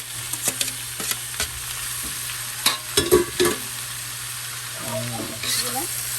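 Bamboo shoots being sautéed in a pan for ginataang labong, with intermittent stirring scrapes and clatter over a low, steady sizzle, moderately close and without talk.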